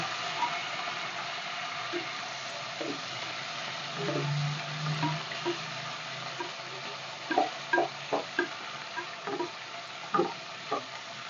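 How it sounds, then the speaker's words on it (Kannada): Onions frying in a pan for chicken biryani, a soft continuous sizzle with scattered scraping stirs that grow more frequent and sharper toward the end, close and moderately quiet, no voices. "ಇವಾಗ ಈರುಳ್ಳಿ ಹಾಕ್ತಾ ಇದ್ದೀನಿ ಹಾಕ್ತಾಯಿದ್ದೀನಿ ಚೆನ್ನಾಗಿ ಫ್ರೈ ಮಾಡ್ಕೊಳ್ಳೋಣ"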